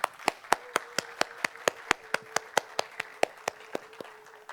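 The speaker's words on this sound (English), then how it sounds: "let's have one more round of applause for everyone from the West Bank who came to the school" Steady clapping at a Palestinian advanced physics school session, about twenty sharp, evenly spaced claps from what sounds like a single nearby person or very few hands, with a faint tone sustained underneath and no voices.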